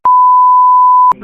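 A single loud, steady electronic beep on a phone call recording holds one pure tone for about a second, then cuts off abruptly.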